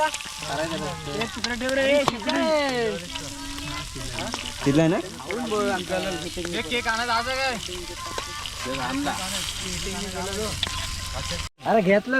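Village-style chicken sizzling and frying on a clay roof tile, a steady loud crackle and hiss running throughout while a person talks over it.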